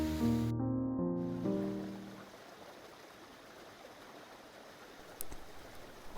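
A Helvellyn mountain stream and waterfalls rush as a steady broadband wash, faint at first under fading music and then alone, continuous and moderately close.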